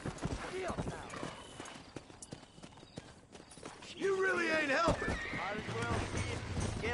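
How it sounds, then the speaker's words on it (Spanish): Horse hooves clip-clop in the video game Red Dead Redemption, mixed with a whinny and game ambience while a person talks over much of it. "Voy a montar en tu caballo."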